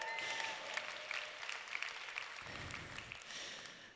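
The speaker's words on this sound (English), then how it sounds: "Give them another round of applause, please." An audience claps steadily, a dense patter of applause that swells slightly near the end, heard from within the room.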